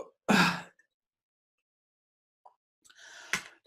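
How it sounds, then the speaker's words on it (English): A loud, breathy yawn-like exhale bursts out briefly, followed by silence and then a second airy breath with a faint vocal edge. "Yawn loud."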